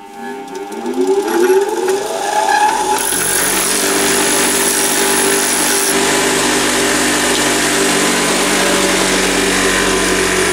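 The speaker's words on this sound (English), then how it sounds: "And then I'm going to grind this backwards and forwards on the wheel" A compression spring's end is ground on a freshly dressed, flat bench grinding wheel: the motor spins up with rising whine, then a loud continuous grinding hiss as the steel presses against the wheel, steady throughout.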